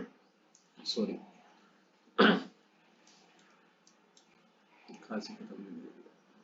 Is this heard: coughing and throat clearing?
yes